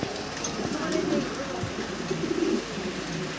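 Low, soft pigeon coos repeat steadily on a pigeon farm over a constant background hum, with a faint murmur of voices mixed in.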